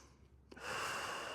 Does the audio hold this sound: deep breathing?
yes